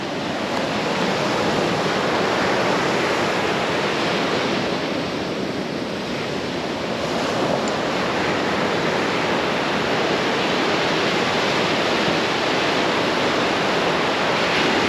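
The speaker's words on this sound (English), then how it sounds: "Listen to those waves" Ocean waves break continuously on Panama City Beach, Florida, a broad steady roar of surf with some wind rush, sustained and even throughout with no voices.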